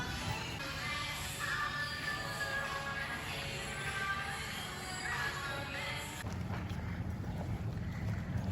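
High-speed ferry crossing the sea to Koh Tao island in Thailand, a steady loud rush of engine drone, water and buffeting wind on deck that shifts tone partway through, with no speech.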